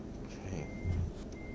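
A truck backing a trailer in American Truck Simulator, with steady high reversing beeps sounding repeatedly over a low idling engine rumble, moderately loud and unbroken.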